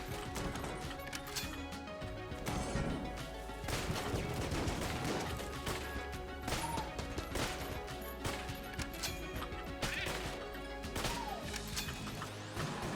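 Dense gunfire and bullet impacts from the video game Enter the Gungeon form a continuous stream of rapid shots, crashes and clattering mechanisms, with no break across the whole stretch.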